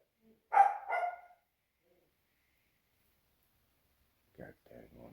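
Dogs bark indoors in a house, two sharp, loud barks close together, then quiet before a few softer, shorter barks near the end.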